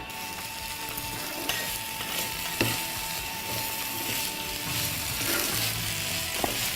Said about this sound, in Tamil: எல்லாத்தையும் நல்லா வதக்கிடணும்.